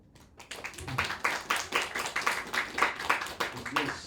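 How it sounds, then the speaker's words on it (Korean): Students at a student worship gathering give a modest round of clapping in thanks for homemade snacks, the claps rhythmic and distinct, with some talk mixed in. "이게 실물을 안 봐서 박수가 이거밖에 안 나오는 거예요"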